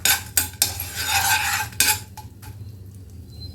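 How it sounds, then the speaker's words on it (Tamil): Fenugreek seeds and peanuts dry-roasting in a pan while a spatula scrapes and stirs them, giving loud rattling scrapes in bursts with a low hum beneath, then quieter stirring toward the end. "இப்போ நல்லா வறுபடுது"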